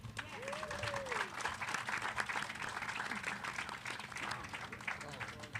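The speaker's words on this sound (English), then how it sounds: "Please join me in giving her a round of applause as we celebrate this incredible milestone." Sustained round of applause from a crowd at a Heritage Estates grand opening celebration, steady dense clapping throughout with voices mixed in underneath.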